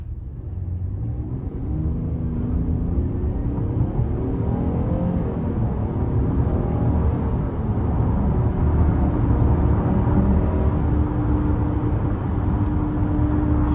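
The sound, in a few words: 2018 Buick Enclave V6 accelerating onto the interstate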